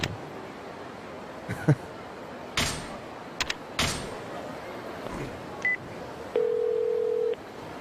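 A phone call in the video game Yakuza Kiwami 2: a few faint clicks and short beeps, then a steady electronic ring tone lasting about a second, over a low game background hum.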